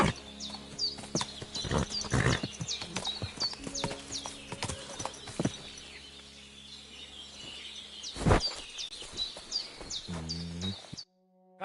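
Horse hooves clip-clop steadily in Kingdom Come: Deliverance 2, a close, rhythmic run of hoofbeats with bird calls chirping overhead and a couple of louder thuds, fading near the end.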